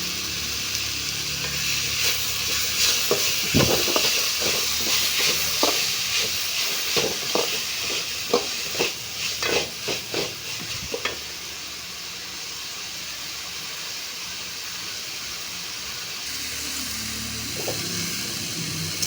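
Onions, tomatoes and curry leaves sauté in a pan for neem-flower kuzhambu, giving a steady close hiss, with a cluster of stirring scrapes and clicks in the first half before the sizzle settles to an even, unbroken wash.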